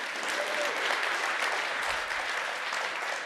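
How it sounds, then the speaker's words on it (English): Lecture audience applauding, a steady wash of clapping hands at moderate distance that holds evenly for a few seconds, with no speech over it. "You can clap for them."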